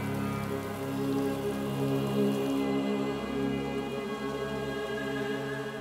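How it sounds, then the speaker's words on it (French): Rain patters steadily on a surface in the Hajar Mountains, a dense continuous hiss with faint droplet detail and no voices. "La pluie tombe sur les monts Hajar à fréquence très irrégulière."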